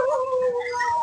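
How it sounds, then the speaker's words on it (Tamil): A dog howls nearby in the open, one loud, drawn-out wavering cry that holds steady and then bends downward at the end. "நாய் கத்துது"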